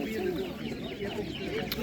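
Chickens clucking at a village animal market, several birds cackling close by amid a busy background with people talking.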